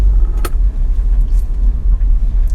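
Toyota FJ Cruiser with a 4-liter V6 driving, a low steady engine and road rumble heard from inside the cabin, with a brief sharp click early on and no talking.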